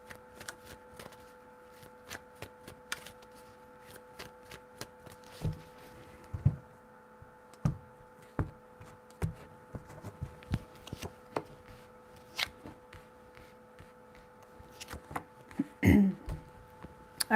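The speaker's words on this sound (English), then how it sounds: "Three shuffles." A deck of tarot cards is shuffled in short bursts of soft riffling taps and slaps, some sharper, spread irregularly through a quiet room with a low steady hum beneath.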